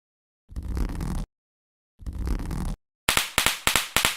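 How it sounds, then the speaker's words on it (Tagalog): Two short hissing sputters separated by silence, then a rapid series of sharp crackling pops, close and loud, from a watusi friction firecracker struck against cement. "Ito ang watusi. Isa sa ginagamit namin na paputok."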